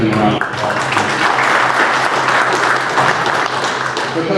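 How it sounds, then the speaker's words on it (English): A crowd applauds a baseball coach at a high school baseball hall of fame event, sustained loud clapping filling the room for over four seconds, dense and even with faint crowd murmur underneath. "Give him a round of applause."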